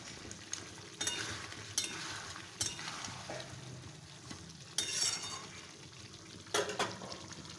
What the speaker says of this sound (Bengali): এখানে দেখো চিকেন কষানো হচ্ছে, আলু দিয়েই করছি।